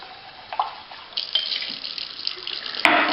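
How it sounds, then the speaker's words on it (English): Tap water running over tomato seeds in a strainer, a soft trickling splash that grows fuller partway through, with a few small clinks, and no talk. "And then you're just going to run these under some water here."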